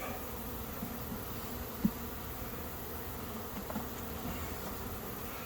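Honeybees buzz in a continuous, moderately loud drone during a beehive inspection, with a brief knock partway through and no talking.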